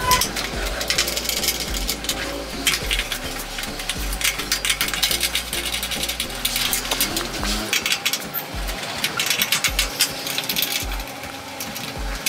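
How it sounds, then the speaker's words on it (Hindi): Ratchet working loose the base bolts of an air conditioner compressor, with repeated clicking and metallic clinks in short bursts close by, amid background clatter. "अब हम बोल्ट खोलेंगे।"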